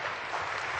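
Brief burst of dense audience clapping, steady and moderately loud, filling the whole moment with no pause.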